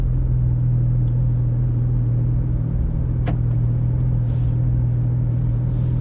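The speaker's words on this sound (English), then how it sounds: "Engine is warm. Takes a while to warm up this motor." A warmed-up Porsche 911 GT3 RS (991.2) engine runs while driving, a steady, loud low drone and rumble from inside the car with a faint click or two.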